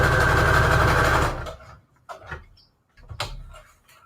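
A sewing machine stitching junk journal embellishments runs in a fast, steady whirring burst for just over a second, then stops, followed by a few quiet handling clicks and rustles.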